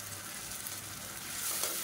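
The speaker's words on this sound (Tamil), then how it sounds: "இஞ்சி பூண்டோட பச்சை வாசனை போகிற அளவுக்கு நல்லா வதக்கி விட்டுக்கலாம்." Ground paste of small onions, garlic and ginger sautéing in a pan for egg curry, a faint, even sizzle that swells slightly toward the end.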